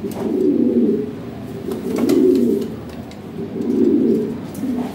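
Lahori Sirazi pigeons coo nearby in three slow, rolling, low throaty swells, each lasting about a second, with no voices.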